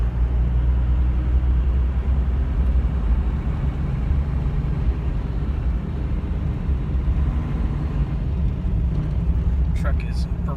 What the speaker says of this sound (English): Truck is performing quite well on Tune 3.